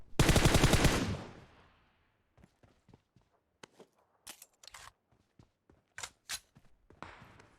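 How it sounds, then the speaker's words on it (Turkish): Close automatic gunfire from PUBG Mobile, a long loud burst in the first second, then scattered quieter shots, clicks and footstep-like taps, with a few sharper single shots near the end. "Her yerden sıkıyorlar ya."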